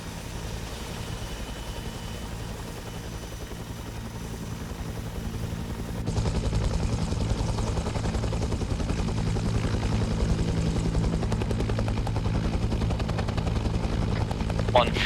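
A helicopter in the video game ArmA 3 comes in to land, its steady rotor and engine drone growing louder about halfway through and continuing loud and close, with gunfire-like chatter mixed in.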